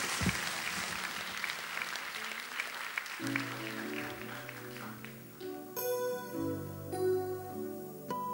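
Applause from an audience at a jazz concert in Penza in May 2011 in the opening seconds, then it gives way to music with sustained tones and a melody.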